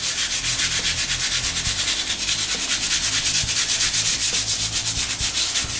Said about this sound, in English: Nail brush, because obviously something a bit bigger. And it is a case, literally, of just scrubbing